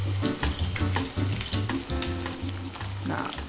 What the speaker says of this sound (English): If you cook in hot fat like this, everything stays so crisp and light.